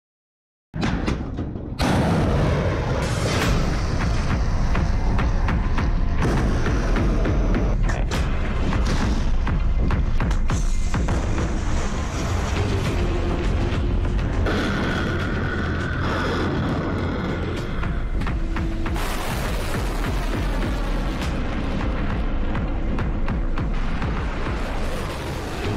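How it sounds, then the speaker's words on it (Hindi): Missiles launch from the ground into the sky in a rapid series of deep booms and rushing roars, loud and close, with repeated thumps overlapping one another and no talk. "जमीन से आसमान में उड़ान भरती ये मिसाइलें भारत के पराक्रम की बानगी हैं।"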